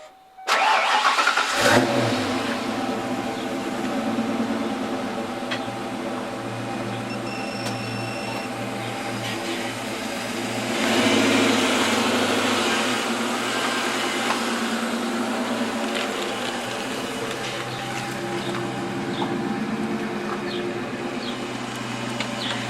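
A Foxbody car engine cranks and catches after a brief silence, then settles into a loud, steady idle with a slight rise in revs midway, heard close up with no talking.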